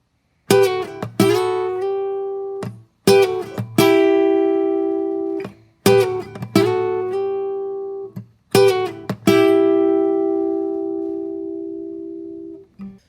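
Guitar playing a riff, four repeated phrases of quick strums followed by ringing sustained chords and short pauses, close and clean, ending on a long decaying chord.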